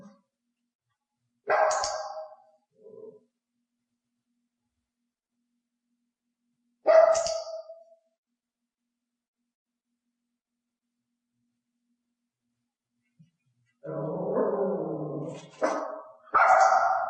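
A dog gives a few separate barks with long silent pauses between, then a couple of longer, whiny vocalizations near the end, close and clear.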